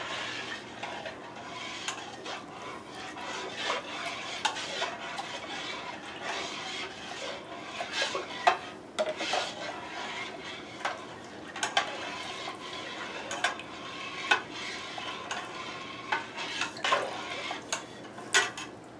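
Granulated sugar being stirred to dissolve for small-batch winemaking, with a steady run of light scraping and clinking of a utensil against a container, close and continuous with no voice.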